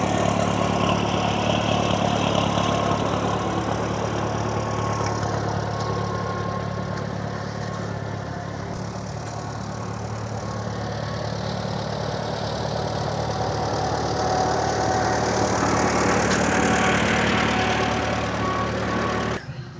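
A 1937 Allis-Chalmers WF tractor engine idles steadily at close range at a tractor show, a low rumbling chug that holds throughout with slight swells in loudness.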